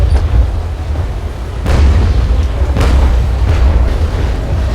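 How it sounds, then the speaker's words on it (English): Heavy cannon fire booms out from a sailing warship in the naval combat game Naval Action, several deep blasts a second or so apart over a constant low rumble of sea and wind. "I'm shooting over him right now"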